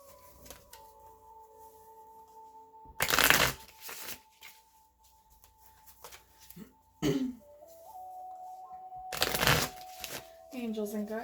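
Gilded Tarot cards are shuffled in two loud, brief riffling bursts separated by quiet stretches, with a few softer rustles and a brief throat sound between.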